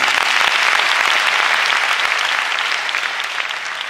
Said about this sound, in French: On l'applaudit.